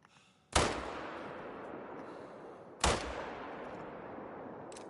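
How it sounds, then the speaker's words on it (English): Two loud rifle shots from an SKS ring out in the hunting game theHunter: Call of the Wild, each a sharp crack with a long rumbling decay, spaced about two seconds apart. "Alright, I'll shoot this guy with the SKS."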